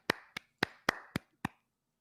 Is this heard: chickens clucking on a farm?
no